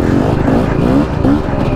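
Two-stroke enduro motorcycle engine buzzing close by in a forest, steady and loud, with pitch swells as the throttle rises and falls.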